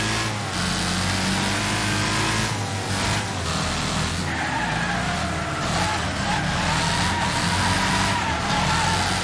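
A race car in the demolition-derby game Wreckfest roars continuously and loudly, its engine pitch climbing and shifting as it revs, with tyre skids and scrapes layered over it.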